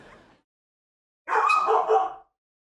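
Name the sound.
dog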